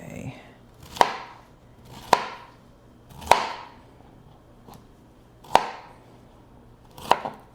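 Knife chopping vegetables on a cutting board for a salad, cutting them into bite-sized pieces: five or six sharp, evenly spaced chops about a second apart, close and clear, with quiet room tone between.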